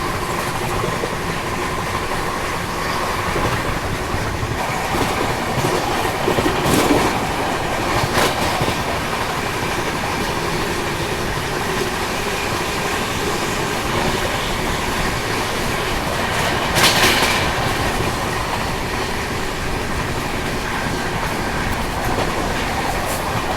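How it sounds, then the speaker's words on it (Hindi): A passenger train runs at full speed toward Sanchi, its steady rumble and rolling rail noise continuous and loud throughout, with a couple of brief louder swells of wheel and carriage noise. "और जब ट्रेन अपनी पूरी रफ्तार में चलती है ना"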